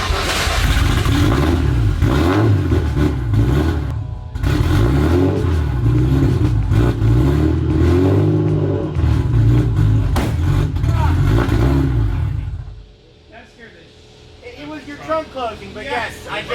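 A Nissan R33 with an RB engine and big turbo idles and revs loudly up close, a steady rough engine drone with rising surges, then cutting off near the end to leave quieter background sounds and voices.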